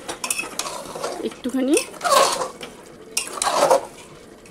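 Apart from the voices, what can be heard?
stirring chicken and bottle gourd curry in a pan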